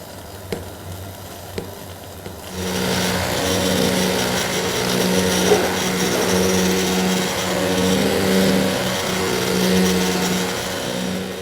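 A stick blender pureeing cream of tomato soup starts up after a quiet moment with a few small clicks, then runs as a continuous whirring motor hum with a churning, sloshing texture, fairly close and steady.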